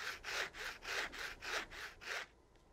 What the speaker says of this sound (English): If you listen for that same texture using your fingernails,